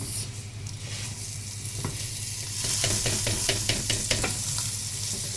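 Rice and toasted vermicelli being stirred while they fry in a pot, with a steady sizzle throughout and repeated scraping strokes of the spoon growing louder toward the end; no one talks.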